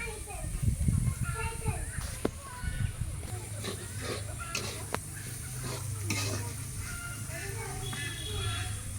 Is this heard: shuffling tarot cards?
no